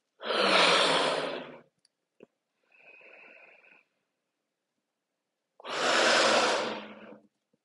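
Two long, loud, breathy exhalations during a pelvic floor core exercise with a balloon, with a quieter breath between them, set in near silence.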